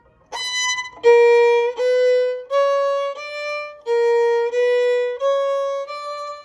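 Slow violin notes from Schubert's Unfinished Symphony, about eight sustained bowed tones in a measured line, each held roughly a second with brief breaks between, clear and close with no talking.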